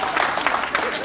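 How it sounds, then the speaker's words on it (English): An audience at a comedy event claps in a brief, dense burst of many hands, close and fairly loud. "It's okay, you can clap."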